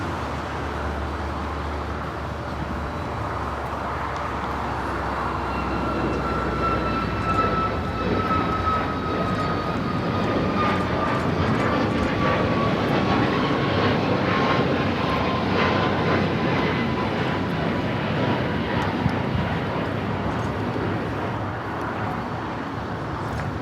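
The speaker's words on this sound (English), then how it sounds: "457 taking off to Frankfurt. 747-8 Intercontinental." Lufthansa Boeing 747-8 Intercontinental jet taking off from a large airport, a steady, moderately loud engine roar with a slowly descending whine heard from a distance, building slightly then holding, with faint road traffic beneath.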